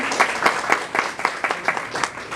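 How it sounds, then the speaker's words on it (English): Audience at a donor brunch claps in a short round of applause, a moderate crowd with a steady patter of hand claps that fades slightly toward the end. "Please give them a round of applause."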